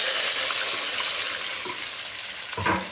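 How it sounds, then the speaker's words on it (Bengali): Pieces of onion frying in hot oil in a kadai for chicken stew, giving a loud, continuous close sizzle with a brief stir or clatter near the end and no voices. "তারপরে দিচ্ছি পেঁয়াজ টুকরো"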